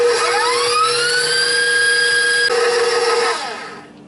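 Electric hand mixer beating eggs into white chocolate macadamia nut cookie dough, a loud, close, steady high-pitched motor whine with a rising pitch at startup, holding even before winding down at the end.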